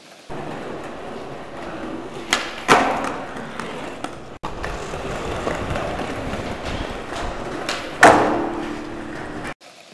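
A skateboard thumps down on pavement twice during backside pop shove-it attempts, with the board's clatter and rolling wheels between the loud landings, close and with no talk.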